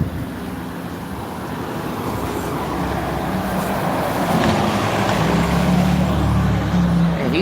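A white Nova bus rolls past in street traffic. Its engine rumble and road noise grow steadily louder and heavier toward the end as it comes close, over a constant background of traffic.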